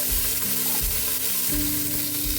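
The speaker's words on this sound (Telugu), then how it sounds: "ఇప్పుడు ఇందులోకి కొద్దిగా వంకాయలు వేసుకోవాలండి" Brinjal pieces sizzling in hot oil for a Rayalaseema lablab bean pulusu, a dense, loud frying hiss with low thumps of stirring underneath, close up and without speech.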